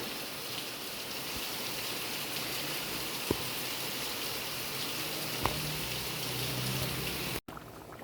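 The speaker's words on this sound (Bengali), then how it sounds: "বৃষ্টি হবে আর আমি বৃষ্টি বিলাস করব না সেটা কি করে হয়" Steady rain falls on a rainy day, a dense, even patter of drops that continues throughout, with a couple of sharper drip hits and a brief dropout near the end.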